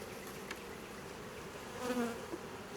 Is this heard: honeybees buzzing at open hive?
yes